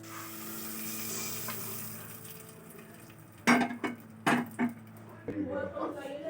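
Deggi chili goes into a hot sambar tempering with the flame off, a soft sizzle followed by several sharp metallic clanks of a spoon against the pan.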